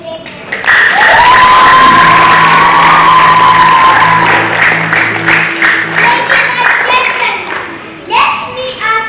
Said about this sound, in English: A round of applause for this great family.